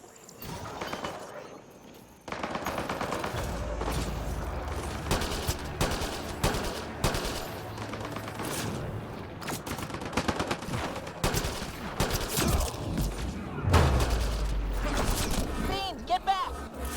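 Automated turrets fire on enemies in the video game Mass Effect: Andromeda, with dense bursts of gunfire and impacts running loudly and almost without pause over a busy battle mix.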